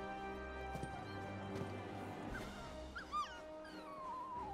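A young wolf in the video game Final Fantasy XVI gives faint, high, wavering whimpers and yips over a low, steady game soundtrack.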